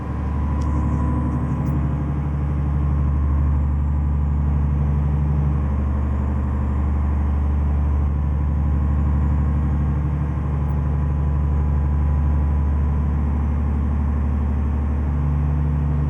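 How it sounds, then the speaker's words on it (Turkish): Truck engine in Euro Truck Simulator 2 with a cold-weather truck mod drones steadily, a continuous low mid-pitched rumble holding at even loudness throughout with no talk over it. "Harbi yani bir kamyon sesi var ya hissettiriyor."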